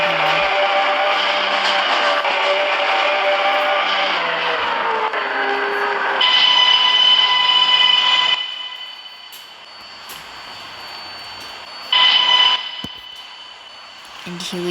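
A passenger train runs in a video game on an underground line toward Trafalgar Junction, giving a steady, loud mechanical hum with a high whine. The tone shifts and swells briefly around the middle and again near the end.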